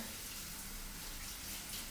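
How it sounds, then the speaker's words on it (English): Water runs steadily through a strainer of millet while the grain is rinsed, a constant soft splashing rush that holds at an even level for two seconds. "And I'll rinse the millet until the water is more or less clear"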